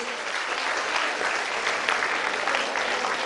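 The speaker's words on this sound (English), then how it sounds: "Give him a big round of applause." Steady, dense applause from a large crowd, loud and sustained throughout with no speech on top.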